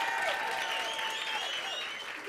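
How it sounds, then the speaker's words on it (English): Applause from the audience at a gala dinner, welcoming a guest from Kenya, a steady wash of clapping that holds at a moderate level and fades slightly toward the end. Faint voices sound beneath it. "Kenya, give Kenya a round of applause"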